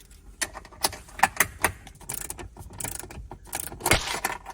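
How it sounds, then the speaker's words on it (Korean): A hand ratchet handle turns to loosen bolts on a Tesla Model Y RWD during a DIY accessory install, producing close, irregular bursts of metallic clicking and ratcheting with short pauses between strokes. "지금 막 라쳇 핸들 막 돌리고 있으니까"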